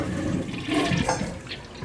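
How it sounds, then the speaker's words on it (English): A toilet flushes in a cottage being winterized, water rushing and gurgling loudly up close for the whole short stretch with no talk. "I'm gonna flush the toilet."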